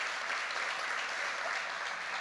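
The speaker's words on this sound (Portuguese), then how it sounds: "Uma salva de palmas para o Senhor Jesus" A church congregation gives a steady, dense round of applause, a continuous wash of many hands clapping together with no individual claps standing out, fairly soft and even throughout, with no voices on top.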